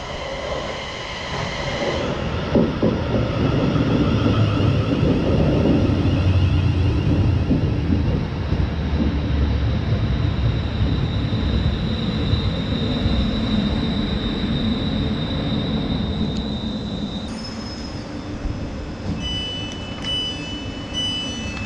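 A train pulls away from Wellingborough station bound for Corby, heard from on board as a rising rumble of wheels and motors, with squealing tones and a high whine near the end, continuous and close.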